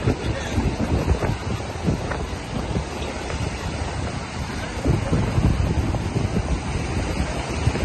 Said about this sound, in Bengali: বাতাস যখন মুখে এসে লাগে